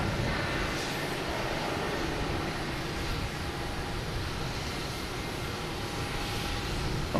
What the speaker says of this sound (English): Next to take off is a Cessna Citation heading to Bridgeport.